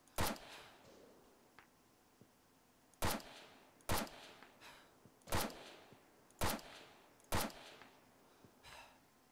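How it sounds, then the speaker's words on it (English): Gunfire in a battle royale video game cracks out in a regular series of six sharp, loud single shots spaced about a second apart, each ringing briefly over a quiet background. "Is that you shooting?"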